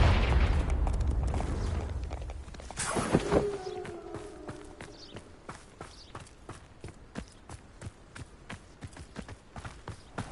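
Confringo explosion spell in the video game Hogwarts Legacy, a loud burst at the start rolling into a rumbling blast around three seconds, then fading into a steady rhythm of hoof-like footsteps.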